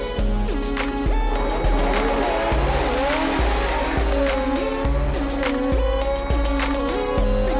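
Rotary-powered race cars roar continuously at a night drag race, with engines revving hard through repeated gear changes and tire squeal mixed in, loud and close throughout.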